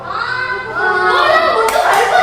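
Children clapping their hands in a call-and-response game, a quick run of claps mixed with excited kids' voices and shouting in a lively room.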